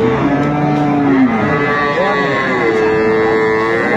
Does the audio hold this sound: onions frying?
no